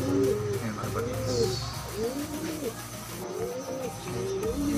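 Pigeons, including a blue bar, cooing close by in repeated soft rolling calls, several overlapping phrases in steady rhythm, with faint background noise and no clear talk.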